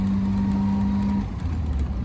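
A Triumph Roadster drives with a steady engine drone that drops abruptly in pitch as it shifts into top gear, then carries on at a lower, even hum.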